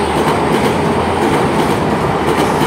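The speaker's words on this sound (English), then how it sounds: "passing through now is an ECS from Stoke Gifford Depot just up there to Bristol Temple Meads." A Class 800 empty coaching stock train runs through Filton Abbey Wood station from Stoke Gifford Depot toward Bristol Temple Meads. It makes a loud, close, continuous rumble with faint rhythmic wheel clatter and no talking.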